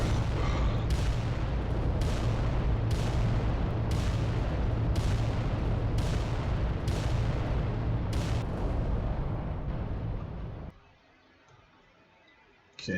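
Titan weapons fire in the Adeptus Titanicus video game, a loud, steady run of heavy booming blasts at regular intervals, one nearly every second, that cuts off abruptly into near silence.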